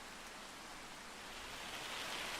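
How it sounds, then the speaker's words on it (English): Steady rain or hail in Farming Simulator 25 hisses as a continuous, even wash of noise, faint and unbroken, swelling slightly toward the end with no voices. "Although that did sound like hail."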